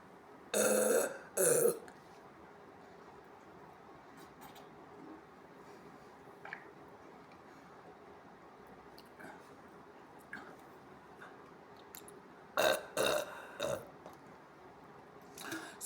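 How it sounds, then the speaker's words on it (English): Loud burps come in two bursts near the start and a cluster near the end, with quieter throaty sounds and faint noises between them and no talking. "Let's just shut up and get as many burps out as we can"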